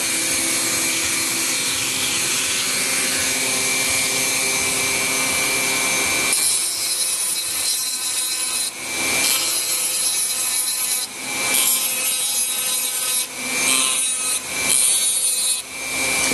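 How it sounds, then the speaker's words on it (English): A Dremel rotary tool grinds an Anso diamond pattern, giving a loud, continuous high-pitched whine with abrasive grinding, broken by several brief dips and surges as the bit digs in and lifts. "you make sure your Dremel's digging in a little bit"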